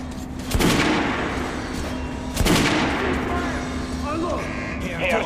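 Gunfire on a shooting range in the video game Metro Last Light Redux: two sharp, loud shots about two seconds apart, each with a rolling tail, over a steady low game hum, with faint sounds trailing at the end.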